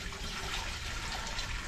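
Water pours steadily into a cooking pot for fish and cassava chips in a Fijian village kitchen, a close, continuous gushing splash with no break.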